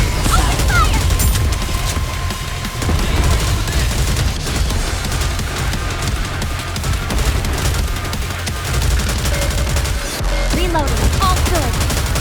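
Dense, continuous gunfire from the anime shooter NIKKE, rapid automatic bursts with booming impacts running loud and close throughout, with brief game voice lines and effects layered in.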